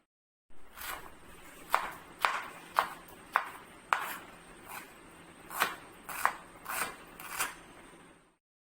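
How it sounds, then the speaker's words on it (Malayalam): A knife finely chops ginger on a cutting board, giving about a dozen crisp, evenly spaced taps at close range in a quiet kitchen. "ഇനി ഇതേപോലെ തന്നെ ഇഞ്ചിയും ചെറുതായി കട്ട് ചെയ്തെടുക്കാം."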